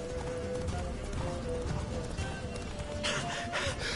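Roach, the Witcher 3 horse, gallops with a steady clip-clop of hooves throughout, close and rhythmic, over a continuous game ambience.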